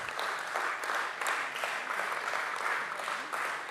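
A crowd at a company share listing ceremony claps steadily, the applause thick and sustained with a few sharper individual claps standing out from the mass.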